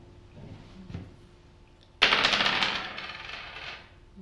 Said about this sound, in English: So Roll it again, roll the dice again.